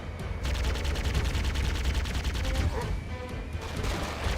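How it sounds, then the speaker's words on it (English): Rapid automatic gunfire in the Halo video game, a fast continuous rattle of shots at moderate distance, pausing briefly and resuming, with some background game sound. "It's just some dude shooting at me somewhere."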